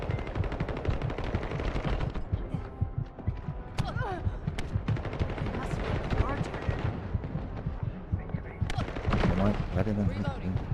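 Rapid gunfire from weapons in the video game The First Descendant, dense bursts of automatic fire running throughout alongside game effects, with a voice talking over it.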